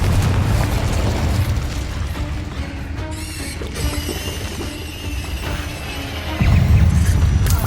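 Confringo and Incendio spell explosions in the video game Hogwarts Legacy, during a dragon fight: a continuous run of loud booming blasts and crackling bursts, with a heavier boom near the end.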